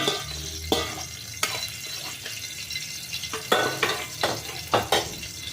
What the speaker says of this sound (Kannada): ನಾನೀಗ ಸಾಸಿವೆ ಹಾಕ್ತಾಯಿದ್ದೀನಿ ಸ್ವಲ್ಪ